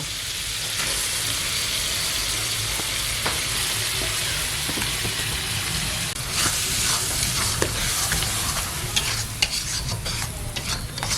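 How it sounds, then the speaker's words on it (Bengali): Spinach paste sizzles loudly in a pan with fried shrimp, a steady frying hiss with stirring scrapes and clicks running throughout, close and alone with no talk. "বন্ধুরা চিংড়ি মাছটা ভাজা হয়ে গেছে, এর পালং শাক বাটাটা দিয়ে দেব।"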